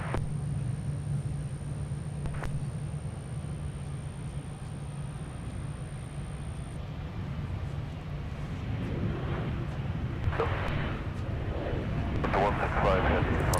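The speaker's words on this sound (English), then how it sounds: "they are now on the takeoff roll" An airliner on its takeoff roll at Minneapolis–St Paul airport gives a broad, steady jet rumble that swells slightly toward the end. Voices and radio chatter are heard over it.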